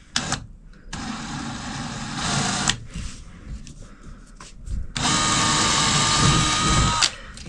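A power drill bores up through a ceiling during speaker and smoke detector installation in a baby's room, two loud sustained whining bursts separated by quieter handling noise.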